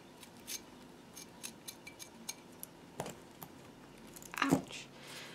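Scissors snip off excess material on a homemade makeup brush holder, a series of sharp, quiet cuts spaced irregularly, ending in a louder cluster of close snips.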